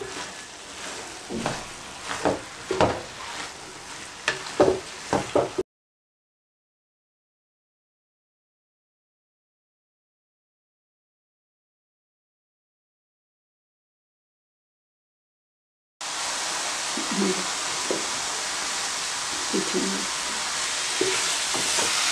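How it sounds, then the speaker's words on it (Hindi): Grated carrots fry in ghee over medium heat for carrot halwa, giving a steady sizzle broken by occasional stirring scrapes, with a long silent gap between the two cooking stretches. "दरमियानी आंच पर ही आपने इसको भूनना है।"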